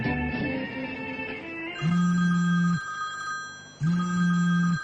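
A telephone rings in two long, loud electronic bursts separated by a short pause, following a brief stretch of other sound at the start, with no voices.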